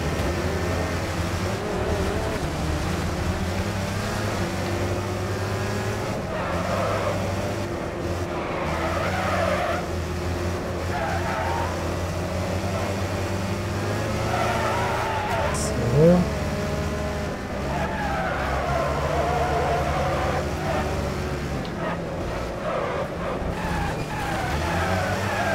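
Cars racing in the video game Wreckfest, engines roaring continuously with repeated tire squeals and skids rising over the motor, one sharp impact near the middle, while someone talks over the action.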